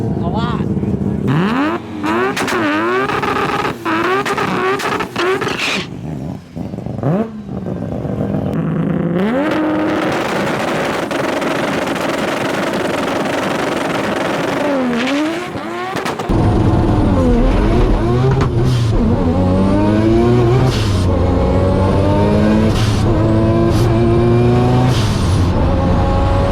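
Race car engine at a drag racing elimination event, with loud revving and repeated climbing engine sweeps heard close up, and voices talking over the steady mechanical roar.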